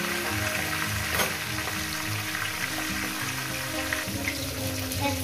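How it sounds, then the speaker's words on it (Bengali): Katla carp fish heads fry in hot oil, a continuous loud sizzle and crackle with occasional stirring, close up and without voices. "মাছের মাথাকে প্রথমে ভেজে নেব।"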